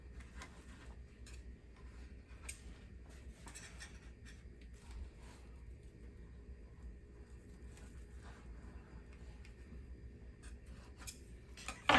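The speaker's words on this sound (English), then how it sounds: "use my knife just to cut right up against the edge of the bowl" A knife scrapes around the edge of a bowl, cutting through a honey cake layer in faint, irregular short scratches and ticks, close by and quiet, with no talk.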